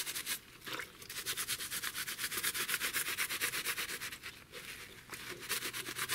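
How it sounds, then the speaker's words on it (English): A rusty, dirty Mac Tools P301781 tool head gets scrubbed with a Scotch-Brite pad in steady, rapid back-and-forth rasping strokes, close and continuous with brief pauses. "Got a little bit of Scotch-Brite here, get a gentle going over."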